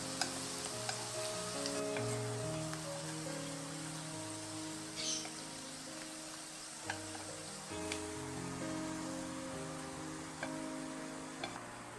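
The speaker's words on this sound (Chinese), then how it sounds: "把豆腐放进去，给它煎一煎" Tofu pan-fries in hot oil in a flat pan with a steady, soft sizzle that runs through the whole stretch. Faint tonal background music plays underneath.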